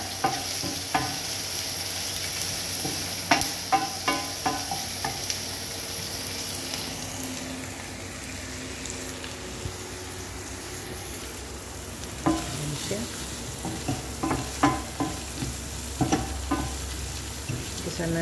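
Curry leaves and onion frying in a pan, a steady close sizzle punctuated by repeated scraping and clattering strokes of a spoon stirring, with no talk.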